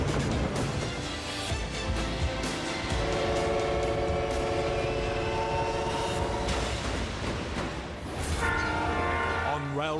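A big freight train rolls through remote Australian country, its horn sounding over the loud rumble and clatter of the wagons, with the horn blasting again near the end.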